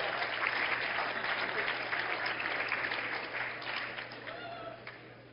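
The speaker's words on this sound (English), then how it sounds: "That's the first time anyone has ever clapped for anything I've said." A lecture hall of calculus students breaks into sustained applause, a dense even wash of clapping that holds steady and slowly tapers toward the end.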